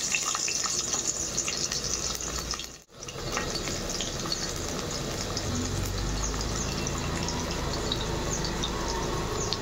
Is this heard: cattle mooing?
no